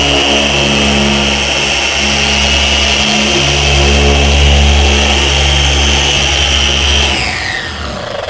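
A car polisher whirring steadily as its pad spins on car paint, stripping old wax in a garage. The motor drone is loud and close, continuous for several seconds, and its pitch drops as the pad winds down at the end.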